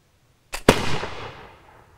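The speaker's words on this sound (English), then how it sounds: "because you're not supposed to shoot that left-handed, Keith" A Japanese-made Miroku replica of a Brown Bess India Pattern flintlock musket fires outdoors: a sharp priming crack, then the loud main blast rolling into a long fading rumble.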